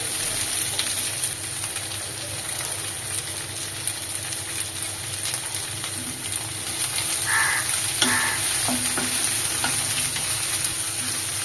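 Roselle flower petals and a pinch of salt frying in hot oil with five-spice tempering for chutney, a steady close sizzle with occasional stirring clatter, no talking.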